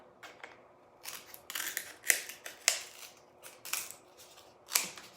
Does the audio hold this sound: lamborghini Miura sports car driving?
no